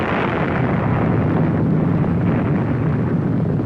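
A massive explosion roars as a dense, sustained rumble of heavy low noise, steady and loud throughout with no break or separate bursts.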